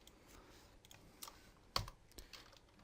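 Quiet computer mouse and keyboard clicks while working in Photoshop, a few sparse soft taps with one sharper click near the middle, close and faint with no one talking.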